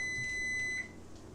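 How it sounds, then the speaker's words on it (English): A home oven sounding its preheat-ready alert, a steady high electronic beep held close for just under a second before cutting off, followed by quiet room tone. "One thing about my oven, when it gets ready, it lets you know for sure that it's ready."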